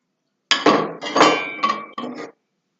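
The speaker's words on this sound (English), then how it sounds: "A glass jar." Several sharp clinks and rattles as ice knocks against a glass jar, in four quick bursts, close and fairly loud, then silence.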